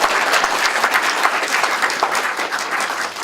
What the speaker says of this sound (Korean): 다시 한번 힘찬 박수 보내주시기